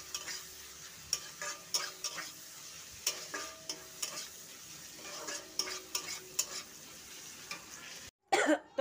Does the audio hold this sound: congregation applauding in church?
no